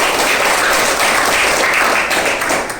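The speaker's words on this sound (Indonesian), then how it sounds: "tepuk tangan bagi Devanya" Classroom of students applauding for a classmate, a dense, continuous wash of many hands clapping together at close range, steady for nearly three seconds before tapering slightly at the end.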